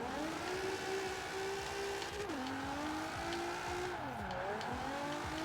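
A car drifting sideways in the Forza racing game, e-brake pulled to hold the slide: a steady, loud engine drone with pitch dips and swells as the revs change, plus faint tire squeal, with no voices.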